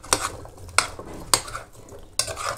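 Vegetables such as pumpkin, onions, carrots and ginger sauté in hot butter, a quiet sizzle punctuated by four crisp spatula scrapes against the pan.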